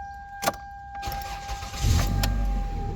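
A Toyota Camry engine cranks and catches after a short key rattle, settling into a low idle that rumbles close by, with a brief clunk just before the start.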